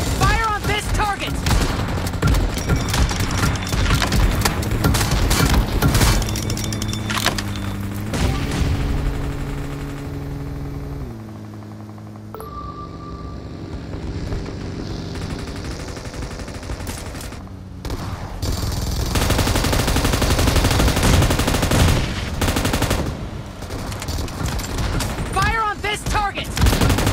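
Bursts of automatic gunfire from the mobile battle-royale game PUBG Mobile crackle repeatedly over loud background music, with a brief quieter stretch in the middle before the shooting and music swell again.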